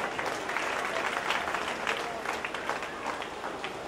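An audience at an ISKCON Kanpur Janmashtami celebration breaks into sustained applause after a zitar performance, with dense clapping from a large crowd, steady and loud, and some voices mixed in.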